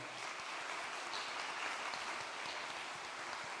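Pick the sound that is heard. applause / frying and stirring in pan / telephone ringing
applause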